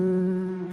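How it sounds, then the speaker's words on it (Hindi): A honeybee buzzes in a steady, close drone with a clear pitched hum, heard alone for under a second. "की साउंड है जो मधुमक्खी प्रोड्यूस करती है।"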